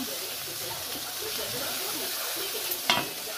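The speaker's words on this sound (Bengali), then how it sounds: "কুচনো খেসারি শাকটা এবার দেয়া হচ্ছে।" Chopped grass pea greens (khesari shak) dropped into hot oil in a pan, giving a steady close sizzle and hiss with a brief louder burst near the end.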